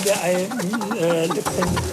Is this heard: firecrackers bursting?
no